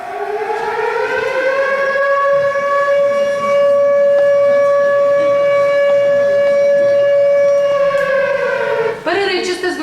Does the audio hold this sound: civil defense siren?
yes